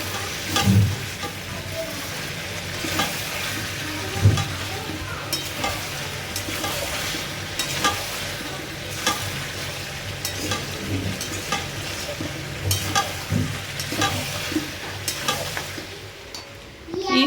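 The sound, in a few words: meat being braised and stirred in a pan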